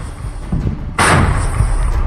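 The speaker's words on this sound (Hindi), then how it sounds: "विनाशकारी बम धमाकों से पूरा इलाका दहल उठा" An explosion in Russia-Ukraine war footage: a sudden loud broadband blast strikes midway and its heavy rumble lingers to the end, after a steady low background roar.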